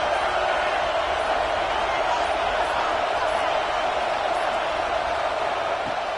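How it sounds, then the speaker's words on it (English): A college football stadium crowd keeps up a dense, continuous roar throughout, a steady wall of massed voices with no distinct breaks. "Listen to the crowd energy here in the early going."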